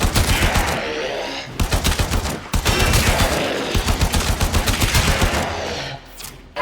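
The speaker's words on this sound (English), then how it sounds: "Prove yourself with your primary weapon." Rapid, loud bursts of primary-weapon gunfire in the Warframe video game, dense volleys of shots with a brief gap near the middle, continuous and close throughout.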